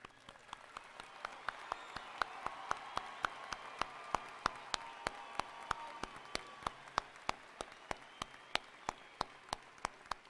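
Audience applause at a May 2016 commencement ceremony, a steady wash of many hands clapping in a large hall, moderately loud and sustained for the whole stretch, with sharp isolated claps standing out.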